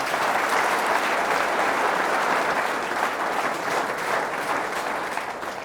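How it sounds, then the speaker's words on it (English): A large audience applauds a special guest at a business talk event, dense steady clapping that fills the room loud and continuous, tapering slightly at the end. "please give a large round of applause for our very special guest"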